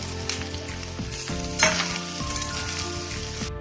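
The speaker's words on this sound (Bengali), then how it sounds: "ভাজা হয়ে গেলে দিয়ে দেবো সব সবজিগুলো" Mixed vegetables frying in oil in a wok, a close, constant sizzle with scraping and knocking as a spatula stirs them, and a brief louder burst of hiss partway through.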